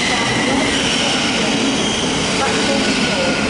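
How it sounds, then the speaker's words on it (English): Thameslink train on the Sutton to St Albans service running into Mill Hill Broadway station, a loud, dense, continuous roar of wheels and motors filling the whole stretch. "now about to make its way in will be a Thameslink service going from St Albans to Sutton"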